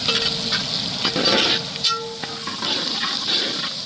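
Onions sautéing with salt in a pan for Karaikal-style Bagha fish thokku, a close, steady sizzle broken by scraping stirs.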